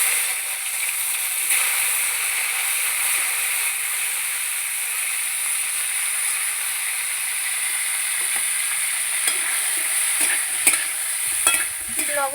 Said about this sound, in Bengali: এবার এই তেলের মধ্যে আমি প্রথমে ব্রকলিগুলো ভেজে নেব।